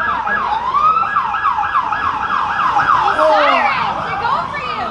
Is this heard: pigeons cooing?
no